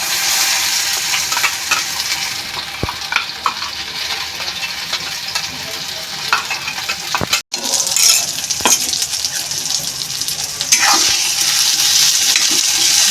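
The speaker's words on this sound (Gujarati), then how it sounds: "મકાઈના દાણા તડકે નહીં ત્યાં સુધી એને આપણે સાંતળવાનું." Corn kernels fry in oil with curry leaves and two kinds of chili, giving a continuous sizzle with scraping stir strokes and occasional clanks throughout. No talking.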